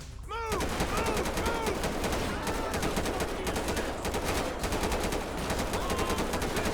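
Sustained automatic gunfire in the GTA 5 prologue mission, a dense, loud, continuous rattle of shots that keeps going nearly the whole time, with a voice now and then under it.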